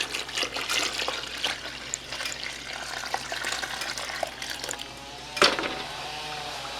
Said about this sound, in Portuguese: eu vou jogar mais água